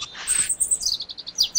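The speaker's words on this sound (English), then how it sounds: "you suddenly begin to hear a very pleasant sound of birds chirping." Bright, close bird chirps ring out alone in a forest setting: a short trill followed by a quick, evenly spaced series of high tweets, fairly loud and clear.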